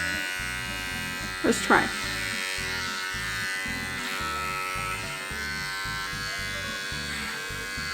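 Electric clippers buzz steadily while trimming a long-haired guinea pig's coat, a close, continuous mechanical hum with a person talking softly over it.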